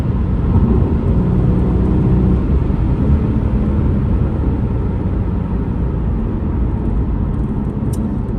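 A Porsche Boxster's flat-six engine pulls hard under acceleration, a loud, sustained low rumble and whir heard from inside the car, holding a steady drone throughout without speech.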